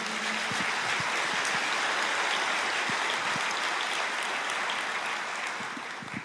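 A church congregation applauds during a sermon, producing a soft, sustained wash of many hands clapping that holds steady for several seconds and fades slightly at the end.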